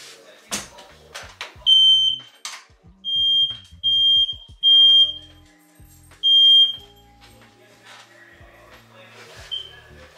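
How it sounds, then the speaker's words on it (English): A smoke detector chirps several times in high, piercing beeps, interspersed with clattering and knocking sounds nearby. "my smoke detector keep on beeping"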